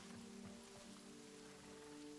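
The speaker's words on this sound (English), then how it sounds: "I think that's the first rainstorm I've heard." Rain falls steadily in Hytale, a faint, even hiss of drops holding constant throughout, with a low sustained musical drone beneath.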